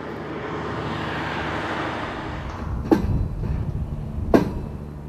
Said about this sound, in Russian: Целый состав медленно перемещает гиганта к старту.